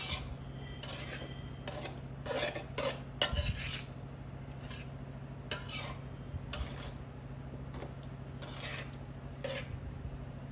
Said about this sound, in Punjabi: ਇਸ ਤੜਕੇ ਨੂੰ ਹੁਣ ਆਪਾਂ ਚੰਗੀ ਤਰ੍ਹਾਂ ਇਹਦੇ ਵਿੱਚ ਲਾ ਦੇਣਾ ਨਾਲ ਆਪਾਂ ਥੋੜਾ ਜਿਹਾ ਗੈਸ ਸਿਮ ਕਰਕੇ ਚਲਾਉਣਾ